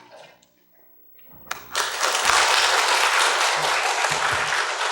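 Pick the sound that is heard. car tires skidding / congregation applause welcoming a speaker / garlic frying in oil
congregation applause welcoming a speaker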